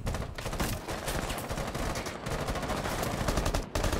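Rapid bursts of gunfire in the video game Rainbow Six Siege, dense overlapping shots sounding close and loud almost continuously, with brief gaps near the start and end.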